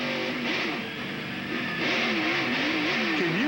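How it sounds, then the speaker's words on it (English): NASCAR Cup stock car at Charlotte Motor Speedway, engine howling with wavering pitch as the car spins loose and the driver shifts gears, steady and loud, alone without voices. "He's shifting gears in the middle of the spin."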